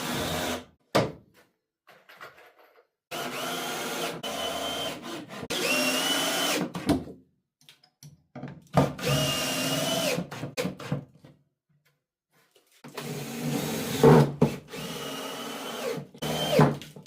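A power drill whirs in several bursts of a few seconds each, driving screws into wood, with short pauses between runs, fairly close and loud.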